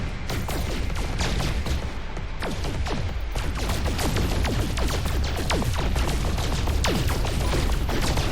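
Starship cannons fire in No Man's Sky in a dense, rapid barrage of sharp blasts and crashes that continues loud and steady through the whole stretch, with no talk over it.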